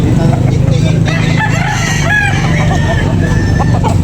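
Several roosters crowing loudly and close at a fighting-cock sale outdoors, with overlapping crows and clucks against a busy background of crowd noise and passing traffic.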